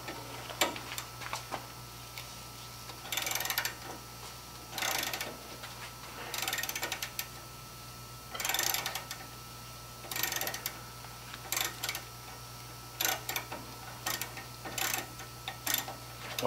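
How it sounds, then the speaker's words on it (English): A 3/8 drive ratchet with a 9/16 socket loosens a bolt on a 1979 Jeep Cherokee steering stabilizer, giving repeated bursts of quick close clicking separated by short pauses over a steady low hum. "my wife Catherine, she's going to be taking off the first bolt with a 3/8 drive ratchet and a 9/16 socket"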